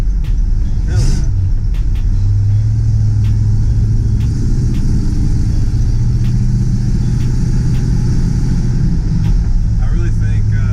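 An old project truck's engine idles loudly and steadily nearby, a deep rumble with a light ticking from an intake and exhaust leak, while people talk over it.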